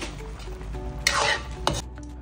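Escabeche sauce with pineapple tidbits and brown sugar being stirred in a pan as it thickens, with soft sizzling under a steady scraping stir and two sharper clanks of utensil against the pan.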